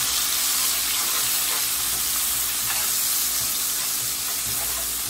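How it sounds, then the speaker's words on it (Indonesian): Ingredients for fried rice with stink beans sauté in a hot pan, giving a steady, loud, close sizzle and hiss that runs through the whole stretch, with faint scraping of stirring underneath and no talking. "Kita tumis sampai harum."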